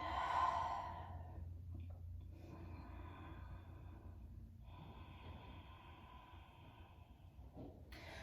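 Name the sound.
breathing during a yoga flow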